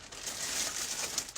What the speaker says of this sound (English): Sorry for the cellophane noise.